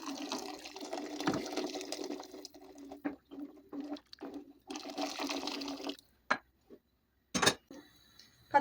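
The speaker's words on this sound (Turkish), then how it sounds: "Tekrardan sıcak su ilavesi yapacağız." Hot water poured into a pot of sour vegetable soup with potatoes and carrots, a steady close splashing pour for about six seconds, then a few brief sploshes and drips.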